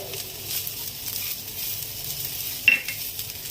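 Cashews, grated coconut and sugar frying in a pan while being stirred, a soft steady sizzle with a brief utensil clink near the end.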